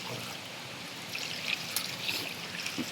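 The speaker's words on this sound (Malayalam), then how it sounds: "ഒരു 2 ഗ്ലാസ് വെള്ളം ഒഴിച്ച് കൊടുക്കുന്നുണ്ടേ." Water poured from a glass into dough, a soft, fairly quiet trickling stream with small splashy bursts and no talk.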